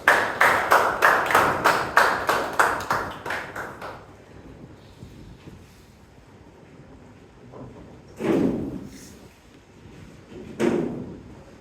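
At a Bangalore Toastmasters club meeting, an audience claps for the club president in a short run of sharp, evenly spaced claps lasting a few seconds. A quiet pause follows, broken by a couple of dull knocks.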